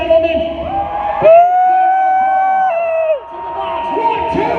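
Crowd at a bike stunt show yelling and cheering, a swelling burst of shouts and whoops that holds loud for a couple of seconds, with an announcer speaking before and after.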